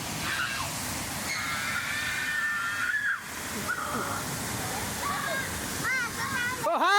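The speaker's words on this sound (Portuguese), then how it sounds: "Tudo aqui na cachoeira aqui" A waterfall rushes in a continuous loud hiss while people talk and shout nearby over the roar of the falling water.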